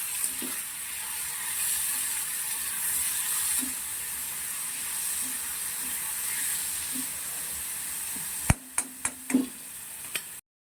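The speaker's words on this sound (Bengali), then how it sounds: "আলুটা ভাজা হয়ে যায়" Potatoes frying in a pan for a home-cooked fish fry, a steady broadband sizzle running for several seconds before a few sharp clinks and taps of a utensil near the end, then sudden quiet.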